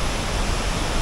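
Muddy, chocolate-coloured waterfall swollen by heavy rain in Bali, a steady loud broadband roar of falling water with no pauses, close by and alone.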